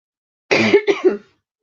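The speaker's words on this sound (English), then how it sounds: "I've still got this cough." One person coughs close by in a short, harsh fit of two or three rough bursts lasting under a second, with silence before and after.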